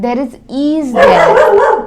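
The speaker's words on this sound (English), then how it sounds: "That is my dog." A dog barks a couple of times close by, short voiced yelps followed by a rougher burst, mixed with a person talking.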